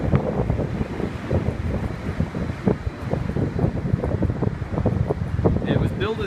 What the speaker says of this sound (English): that's at least 60-mile-an-hour wind